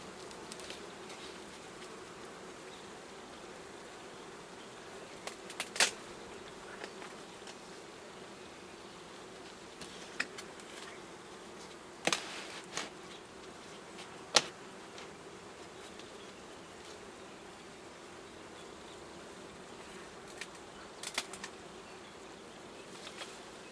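Honey bees buzzing steadily around hives in a low drone, with occasional closer buzzes passing by and a few faint knocks of hive boxes.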